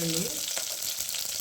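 Garlic sizzles in hot oil with mustard seeds for a tempering, a short steady frying hiss heard close, with a brief trailing word of speech at the start.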